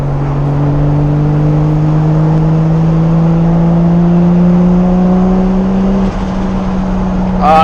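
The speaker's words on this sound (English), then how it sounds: "Turbo flutter, dude." A single-turbo 550hp Toyota Supra drones loudly as its engine pulls and climbs in pitch from inside the car, ending in a brief fluttering chatter as the throttle lifts.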